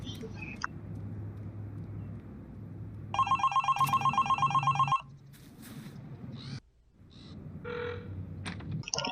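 A telephone bell rings in a steady, loud burst of about two seconds, set against a quiet room with a low background hum and a few scattered clicks and noises before and after.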